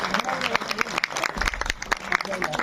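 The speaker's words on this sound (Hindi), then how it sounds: "एक बारी जोर से तालियां बजा दीजिए।" An audience claps at a film screening and patriotic gathering in Delhi. The clapping is moderately loud and uneven, and voices talk over and around it.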